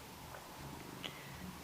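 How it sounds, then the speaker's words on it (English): A cat purring while settled on a person's lap indoors: a soft, steady low rumble that runs continuously and faintly through the whole stretch, with no talking over it. "You might hear Millie purring, by the way"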